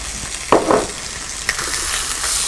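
Chicken frying with butter in a pan sizzles steadily and close, with a couple of brief stirring clatters over the continuous hiss.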